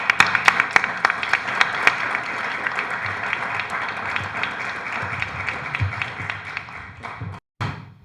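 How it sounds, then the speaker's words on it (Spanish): Audience at an academy induction ceremony applauding two honored doctors, a crowd of hands clapping with sharp individual claps at the start that thin and fade toward the end. "para quienes pido un fuerte aplauso"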